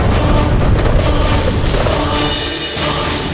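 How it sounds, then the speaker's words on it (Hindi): A weapons armory explodes in a mythological TV serial, a loud, deep rumbling blast that rolls on for several seconds before easing slightly. "वहां रखे समस्त दिव्य शस्त्र भयानक विस्फोट में भस्म हो गए।"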